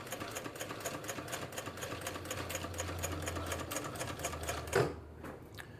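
A Yamata GC8500 sewing machine, bought broken and running with untouched tension at stitch length 5, stitches in a steady rapid mechanical rhythm up close, then stops abruptly near the end, leaving a quieter hum.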